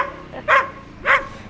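A North African Saluki sighthound lets out two sharp barks about half a second apart, close and loud, with quiet in between.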